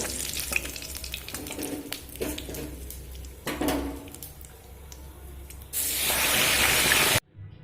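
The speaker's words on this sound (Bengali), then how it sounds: "বাকি মাছটা একইভাবে ভেজে নেব" Rohu fish frying in hot oil, a steady close sizzle with crackling spatters that swells to a louder, brighter hiss near the end before cutting off abruptly.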